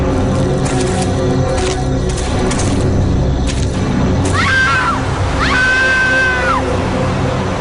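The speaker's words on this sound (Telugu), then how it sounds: "సార్ అరుపు వినబడిందా మీకు?" Two drawn-out, rising-and-falling screams ring out in a Telugu crime drama scene, loud against a dense, continuous background of noise and music.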